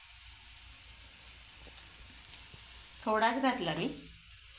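Food stir-frying in a pan after a little lemon juice is added, giving a steady low sizzle throughout with a short spoken remark near the end.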